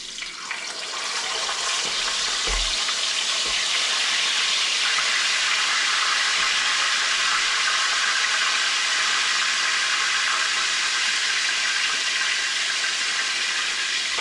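Rinsed mullet pieces hit hot oil in a frying pan and set off a loud, steady hiss and sizzle that swells within the first second and holds unbroken, with a couple of faint knocks early on.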